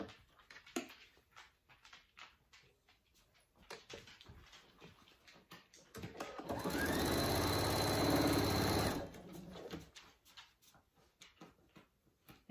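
A sewing machine stitches a bag lining in a single sustained burst of roughly three seconds, a steady close whirring run framed by quieter clicks and handling taps.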